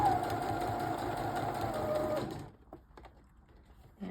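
A sewing machine stitches t-shirt knit fabric for adaptive clothing, running steadily and close for about two seconds, then stops, leaving near-silence with a few faint handling clicks.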